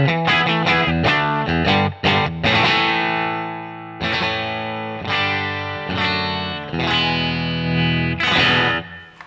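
Electric guitar run through an unadjusted stock amp model on a Line 6 HX Stomp, a loud, effected tone with chorus and distortion, quick strummed chords at first, then sustained ringing chords struck every second or so.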